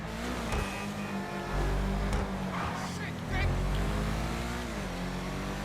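Ubermacht Sentinel GTS car in GTA Online driving flat out near its 130 top speed, with a sustained droning engine note that shifts in pitch, and someone talking over it.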